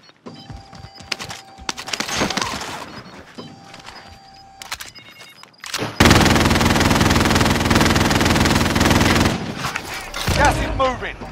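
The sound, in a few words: friendly sentry gun firing in the video game Call of Duty: Modern Warfare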